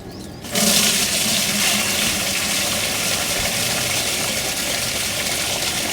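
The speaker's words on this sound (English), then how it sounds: "I'm going to strain it through this screen right here" Liquid fish hydrolysate, fermented fish fortified with honey locust leaves, pours in a steady continuous gush through a straining screen into a bucket, starting abruptly after half a second and running loud and unbroken to the end.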